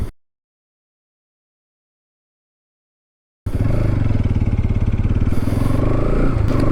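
A Bajaj Pulsar NS200 motorcycle pulls away after a stretch of silence, its engine note rising loud and close with a steady rough throb and wind noise as it rides off.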